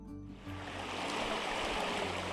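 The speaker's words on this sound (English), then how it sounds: "the peaceful alpine stream winding its way through the open meadow" Alpine stream Monica Brook rushes through an open meadow near Tent Ridge, a steady, close, continuous wash of flowing water with no voices.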